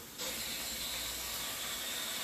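Garlic warms in olive oil in a pan, breaking into a steady, close hiss of sizzling that starts abruptly and holds evenly, with no talking.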